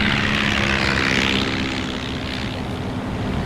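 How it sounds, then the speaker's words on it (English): Propeller engines of Swordfish torpedo bombers taking off from an aircraft carrier, a loud continuous droning roar with a steady low hum, swelling slightly and then easing. "21 Swordfish torpedo bombers lifted off an aircraft carrier"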